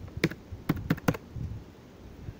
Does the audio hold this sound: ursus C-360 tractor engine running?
no